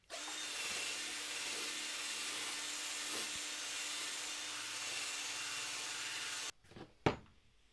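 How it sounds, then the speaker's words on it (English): A nylon brush spun by a drill scrubs char off burnt wood, a steady whirring, abrasive rush that runs continuously for several seconds before stopping, followed by a couple of quiet knocks. "Here I'm just brushing off the top char with a nylon brush on the drill."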